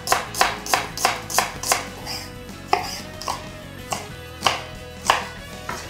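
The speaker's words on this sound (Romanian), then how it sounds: "Atât ceapa cât și ardeiul gras ar trebui să le tăiați cât mai uniform puteți" A knife chopping onion and bell pepper on a cutting board, a run of sharp, evenly spaced cuts up close, then slower, more spaced strokes, loud and alone.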